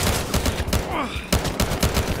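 Rapid gunfire in the police shooter game Battlefield Hardline, a dense fusillade of sharp, closely spaced shots and bursts, loud and continuous, with a brief whooshing sweep partway through.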